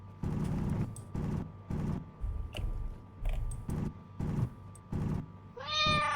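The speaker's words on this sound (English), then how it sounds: "There's a cat." A cat meows repeatedly in a video game, about eight evenly spaced loud, clear meows over a faint hum, ending with a brief bright electronic effect.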